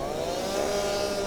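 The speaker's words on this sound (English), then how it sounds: "has to break out the chainsaw once again" A chainsaw engine drones steadily at close range while cutting ice, a continuous buzzing whine with no pauses.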